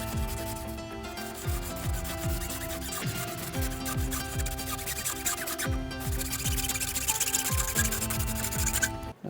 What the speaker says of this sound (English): Hacksaw coming up.